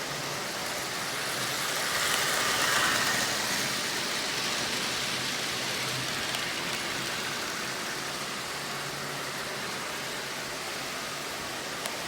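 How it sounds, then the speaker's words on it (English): A Lionel 8601 double-header model train pulling 14 cars around a layout, giving a steady, continuous rolling rumble and whir, fairly loud and unbroken, with no talking. "So the 8601 double header pulling, I think there's 12, 13, 14 cars on there"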